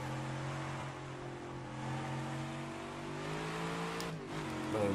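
A 1967 Ford GT40 engine in the rFactor racing game drones steadily at a constant mid pitch with layered harmonics, rising slightly near the end. It sounds close and continuous, with no voices.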